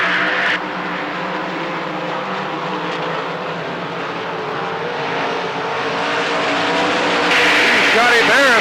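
Race cars roaring around the Lernerville Speedway track during the 1994 Earl Bauman Memorial, engines droning loudly and continuously, rising near the end as cars pass close, with an announcer talking over the noise.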